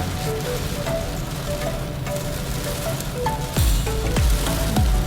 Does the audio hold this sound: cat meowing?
no